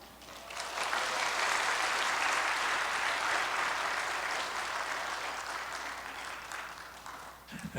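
A church congregation applauds the pastor's guitar song, steady dense clapping that swells quickly and holds for several seconds before tapering off toward the end.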